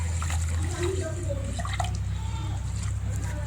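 Water is poured into a bowl holding a cup of sun-dried rice to soak it, a steady rushing, splashing pour over a low background hum, with faint voices.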